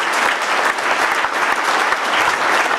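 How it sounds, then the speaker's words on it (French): Dense, loud applause from an audience at a political speech during New Year's greetings, continuous clapping filling the room throughout with no pauses. "vous pouvez l'applaudir."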